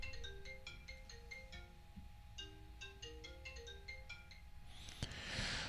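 A phone rings with an incoming scam call, a faint melodic ringtone repeating its short chiming phrase twice, then a brief rustle at the end.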